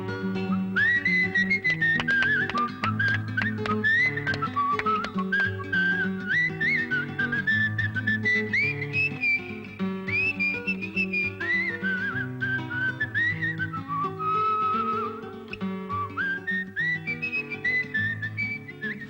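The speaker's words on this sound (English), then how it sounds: "That's all you have to do to whistle all the day long." A lively tune is whistled at a steady pace, the clear bright melody rising and falling close up over soft musical accompaniment, with no talking.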